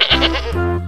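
A goat gives one short, loud, close bleat with a wavering nasal tone.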